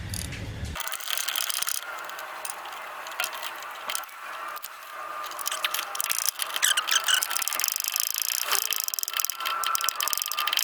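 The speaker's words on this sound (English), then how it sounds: "now we're going to use our ratchet and our Allen wrench," Ratchet tightening the rear sway bar end link on a Ford Fusion, a quiet run of fast clicking pawl ticks repeating steadily, close by and alone.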